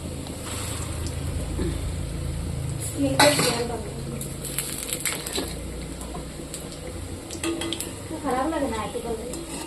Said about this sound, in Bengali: এরকম করে আমি ভেজে নেব।